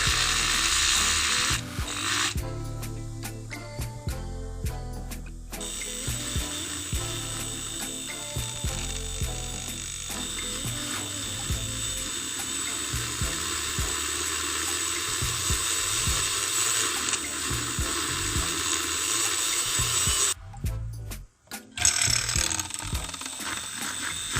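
Milk is frothed for hot chocolate made with Boma cacao, giving a steady, fairly quiet mechanical whir with brief stops and restarts and no talking.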